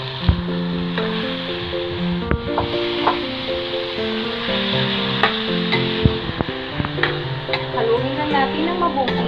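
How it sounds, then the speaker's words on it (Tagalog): Ground beef sizzling and frying in a pan for baked macaroni, a steady crackling hiss broken by scraping stir strokes and soft squishes, with faint background music. "Next, ilagay na natin ang ating ground beef."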